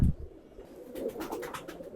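Domestic pigeons in cages give soft, low, throaty coos, fairly quiet and close, with a short bump of handling noise at the start and no talk.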